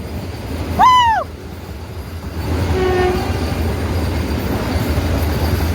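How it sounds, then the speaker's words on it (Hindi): Anand Vihar–Dehradun Vande Bharat Express train passing, with a loud rising two-tone horn blast early on, then a fainter horn note and a steady rolling rumble. "यह है अपनी आनंद विहार देहरादून वंदे भारत एक्सप्रेस निकल गई।"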